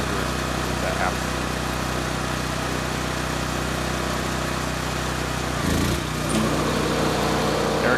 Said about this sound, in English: Now you can hear the generator kick on, going to run